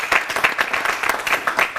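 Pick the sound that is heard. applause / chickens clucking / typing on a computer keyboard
applause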